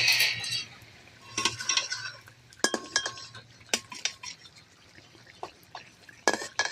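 Metal pot lid lifted and handled over a simmering Bhola fish oil curry, with repeated sharp clinks and clatters scattered through the clip, some close and loud, others lighter, over a faint steady background hum.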